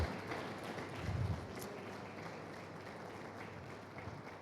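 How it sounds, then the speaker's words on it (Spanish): A church congregation applauds for the Lord during a Spanish-language sermon, a steady wash of many hands clapping at moderate volume that fills the room without voices. "Dale un aplauso al Señor"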